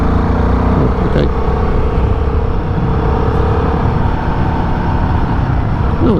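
A Royal Enfield Guerrilla 450 motorcycle on the road, its engine a loud constant drone with rushing wind, a few brief pitch shifts as it changes speed, no talk.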